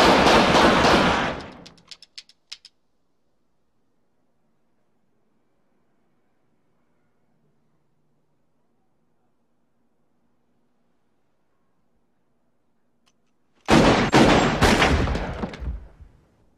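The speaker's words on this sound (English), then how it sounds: "You see the size of that gun he fired at us?" A gunshot burst from a film scene in Pulp Fiction, loud and sharp, cutting in abruptly after a long stretch of near silence and ringing out as rapid repeated fire.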